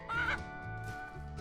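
Chickens on a farm in the video game Ranch Simulator give a short burst of clucking, one sharp squawk followed by lower murmuring clucks, close and moderately loud.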